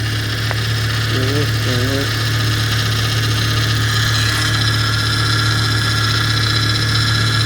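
A 1995 Volvo 850 Turbo engine idles steadily at close range with a constant low hum throughout, joined by a faint whine from the power steering and a brief chirping sound partway through.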